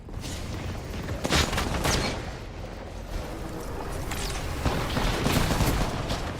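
Gunfire in the Apex Legends video game: dense, loud volleys of shots with sharp bursts clustering around the middle and the end, heard close and continuous with no talking.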